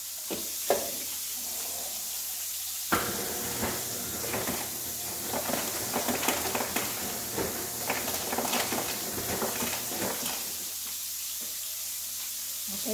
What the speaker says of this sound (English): that's frying up very nicely